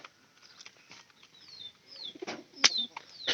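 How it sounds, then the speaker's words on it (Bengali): Pigeons in a south-side loft coo softly and flap their wings in short bursts, with a few sharp chirps, close and fairly quiet, no voices. "এটা হলো আমাদের দক্ষিণ সাইডে ঘরে কবুতর"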